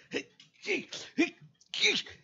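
A voice imitates a sneeze, a few short breathy huffs building up to a louder sneeze-like burst at the end.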